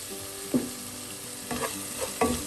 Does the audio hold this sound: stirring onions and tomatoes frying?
yes